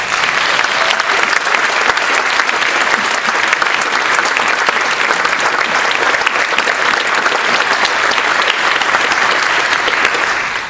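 Family and friends in the audience at a state health department awards ceremony give sustained, even applause for about ten seconds, a loud continuous roar of clapping throughout.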